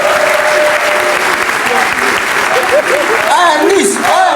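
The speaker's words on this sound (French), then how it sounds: "on l'applaudit fort" Audience applauding at a live show, loud dense clapping from a crowd with a voice talking over it near the end.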